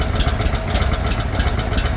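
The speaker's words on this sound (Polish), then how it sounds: "Nawet na ssaniu mu tak marnie to idzie." A cold small engine on the mini tractor runs on choke, a steady rough mid-range chug with fast rhythmic pulsing, loud and close, alone with no talking.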